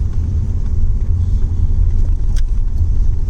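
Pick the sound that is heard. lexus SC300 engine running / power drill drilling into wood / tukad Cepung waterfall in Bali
lexus SC300 engine running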